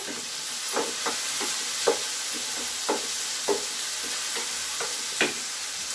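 Tomatoes and onions fry in a pan with a bright, constant hiss of sizzling oil, broken by light, regular spoon taps and scrapes as the mixture is stirred.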